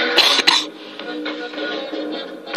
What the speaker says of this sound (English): Sorry if I do cough in this video.